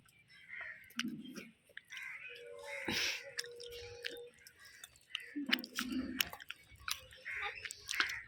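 Several people eat rice, chewing and munching in small irregular bursts, with faint clicks and scrapes between quiet pauses and occasional soft background voices.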